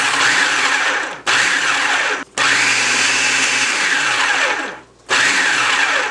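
A blender or mixer whirs loudly as sugar and cinnamon are mixed for a low carb apple crisp, running in steady bursts with brief pauses between them.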